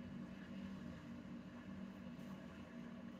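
A faint, steady low hum with a soft hiss from a tube amplifier sits in the background, constant and unchanging, with no other sounds over it.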